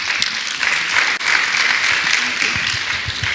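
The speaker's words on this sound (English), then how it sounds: "Join me to give her a round of applause" Conference audience applause fills the room as a dense, sustained clatter of many hands, loud and continuous, with faint voices mixed in.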